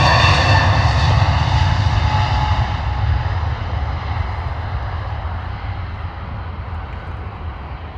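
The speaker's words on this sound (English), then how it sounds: "nice early rotation there from the Wizz Air" Wizz Air jet airliner taking off from London Luton Airport, a loud, close, sustained engine roar that slowly fades as the plane climbs away.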